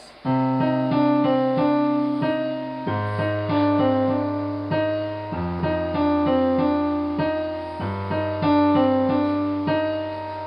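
A piano plays a simple melody line of short repeated notes in a steady rhythm, clear and solo, with the bass note shifting every few seconds.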